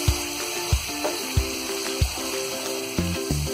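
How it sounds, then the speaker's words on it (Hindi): A curry masala fries in a pan for stuffed mutton and paneer kofta as a little water is stirred in, giving a steady close sizzle with soft regular scraping strokes and no talking. "मिक्स कर देंगे पानी को।"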